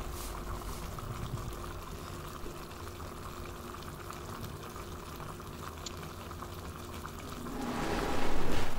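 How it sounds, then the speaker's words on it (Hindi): Handi chicken with fresh coriander boils in a pot: a steady, close bubbling and simmering that swells louder and rougher in the last second. "देखिए कितना बढ़िया बॉयल आ चुका है।"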